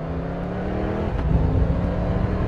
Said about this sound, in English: the noise of that engine is just superb